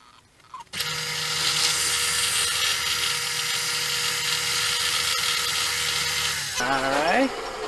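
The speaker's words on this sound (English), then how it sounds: "I'm just going to drill a hole" A power drill whines steadily and close while boring a hole in a small wooden boat for a rower automaton, running for several seconds before winding down, followed by a brief voice.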